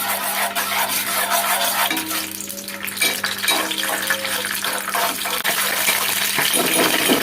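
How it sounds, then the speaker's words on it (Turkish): Pepper paste sautéing in a hot pan for an octopus eggplant fry, a steady close sizzle with stirring scrapes and light utensil clinks over a constant low hum. "Şöyle biraz kavuruyorum."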